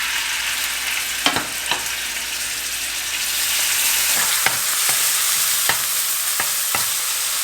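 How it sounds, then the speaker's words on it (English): Beef sizzles steadily in sunflower oil in a copper saç pan over high heat, a continuous close frying hiss broken by a few sharp stirring clicks and scrapes, with no talking. "cook it in high heat with cotton oil, but I'm gonna use vegetable oil here, sunflower oil. It heats very quickly since I'm using copper"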